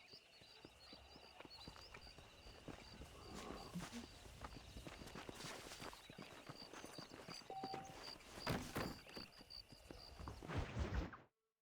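Horse in Red Dead Redemption 2 walking with a steady clip-clop of hooves on ground, moderately near, with soft rustles and faint background sounds.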